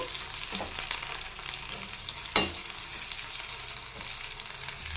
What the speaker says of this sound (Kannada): ಚೆನ್ನಾಗಿ ಫ್ರೈ ಆಗಿದೆ ಈಗ ಟೊಮೊಟೊ ಸೇರಿಸ್ತಾ ಇದ್ದೀನಿ